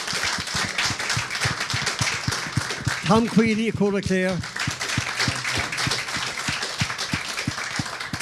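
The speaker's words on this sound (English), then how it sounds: "Would you give a special round of applause" Crowd clapping at a Clare senior football club championship final preview event, a steady patter of hands throughout while someone speaks over it near the middle.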